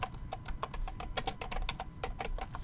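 Quick, steady keystrokes tapped close on a computer keyboard while a place name is entered into a mapping program, a fast run of crisp clicks with no talking.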